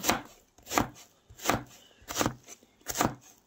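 A knife chops a bottle gourd (lauki) on a board in five crisp, evenly spaced strokes, close and alone.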